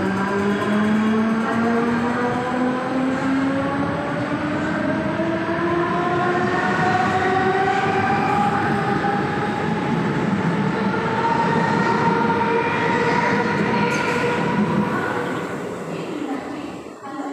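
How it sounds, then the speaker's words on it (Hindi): A Mumbai local commuter train rumbles along steadily, with rising whining motor tones and clattering wheels filling the space, loud and continuous throughout. "ये मुंबई के लोकल ट्रेन की विशेषता है।"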